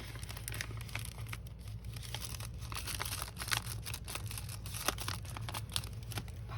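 Sheets of paper for a grungy handmade journal being folded by hand, a soft steady crinkling and rustling with a few sharper crackles, close and continuous throughout without talk.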